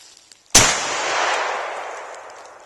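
A Yugoslavian M59/66 SKS-45 rifle fires a single loud 7.62x39mm shot outdoors into a hillside, a sharp crack followed by a long rolling echo that fades over two seconds.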